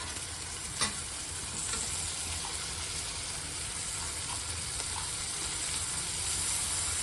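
Fenugreek leaves fry in a pan with a steady, soft sizzle and occasional stirring scrapes, close and continuous without talk.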